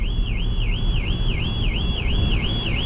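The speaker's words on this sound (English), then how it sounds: "Alarm's going off." Car alarm going off in a car park, a steady warbling electronic wail that rises and falls in a fast regular cycle over a loud rumble of wind and traffic.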